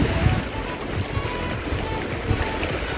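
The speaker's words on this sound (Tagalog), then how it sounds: "Malakas ng hangin." Strong typhoon wind from Typhoon Quinta under Signal No. 3 in the Philippines roars continuously into the microphone with low rumbling gusts, alongside a broad rushing like water or waves nearby.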